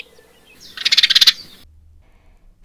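A house sparrow gives a brief, rapid chattering burst of about nine sharp chirps, close by, then quiet.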